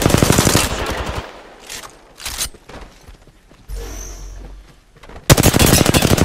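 Automatic gunfire in the Apex Legends battle royale shooter, loud rapid bursts at the start and end with a quieter gap between holding scattered shots and a short electronic whoosh.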